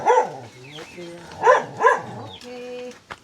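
A tethered dog barks and yips several times up close, with whiny harmonic tones between the sharp barks.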